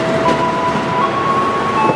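KRL commuter electric trains pass through a station platform, a steady broad rumble with a faint high electric whine running throughout, loud and continuous.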